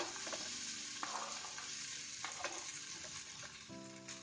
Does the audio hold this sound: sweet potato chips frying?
yes